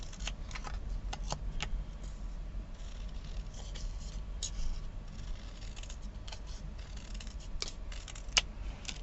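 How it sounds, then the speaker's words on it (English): Scissors snip through material at a crafting bench, giving a run of faint, close, crisp clicks and cuts at an uneven pace over a quiet background hum. "Would be easier with the longer scissors so you can line it up a bit better"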